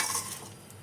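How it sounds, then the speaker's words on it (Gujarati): Chicken masala being stirred and mixed in a hot pan, a brief soft scraping and sizzle with no voices. "હવે આને આપણે સરસ મજાનું મિક્સ કરી દેવાનું છે."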